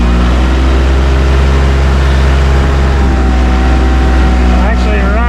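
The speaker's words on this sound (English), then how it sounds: "You can hear that engine, that Iseki." The Iseki engine of a Massey Ferguson 1825E compact tractor idles steadily in neutral with the park brake on, a constant low hum running throughout, with a faint squeal near the end.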